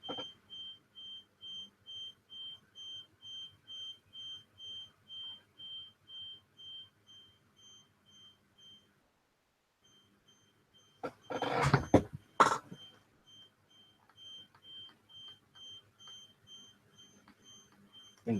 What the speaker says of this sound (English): Might be a fire alarm or car reversing or something.